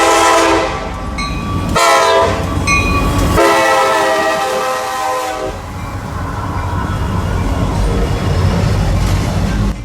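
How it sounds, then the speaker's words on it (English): A westbound intermodal freight train led by two Mac locomotives and an AC-44 passes close and loud, its horn sounding in long bursts over the steady rumble and clatter of wagons on the rails. "This intermodal is basically heading west to Chicago."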